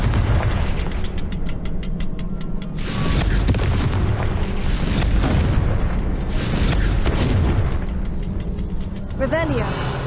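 Confringo blasting spell explosions in the Hogwarts Legacy video game, a run of heavy booming blasts with rumbling bursts between them and a voice cutting in near the end.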